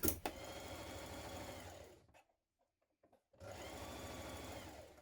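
A sewing machine top-stitches down the side of a dress pocket, running steadily and close for about two seconds, falling silent for a moment, then starting again and running to the end.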